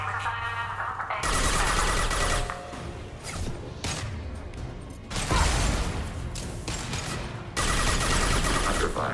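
Heavy sustained bursts of gunfire and impacts in Mass Effect combat, loud and dense, rattling in long volleys with brief gaps between them.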